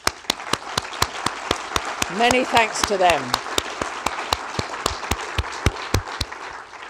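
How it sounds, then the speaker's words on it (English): Applause for the judges at the tve Global Sustainability Film Awards 2014, moderate clapping behind a presenter who keeps speaking over it, with sharp regular clicks running throughout. "double the applause for our judges"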